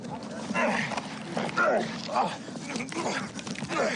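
A dog yips, whimpers and barks in short bursts during a police struggle, mixed under voices at a moderate distance.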